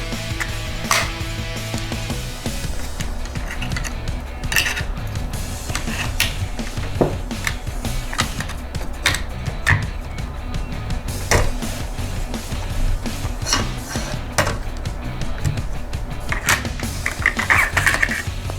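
Sharp metallic clicks and clacks as the bolt assembly of a Bushmaster ACR rifle is handled and installed, a string of close, irregular snaps and rattles with no talking.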